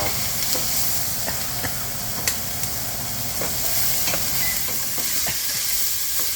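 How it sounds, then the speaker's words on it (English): Onions and andouille sausage sizzle in a hot pan, a constant frying hiss broken by scattered sharp pops and the scrape of stirring, close and moderately loud with no talk. "We're going to put the onions in there."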